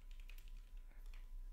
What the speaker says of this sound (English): it's just typing in Coursera coupon code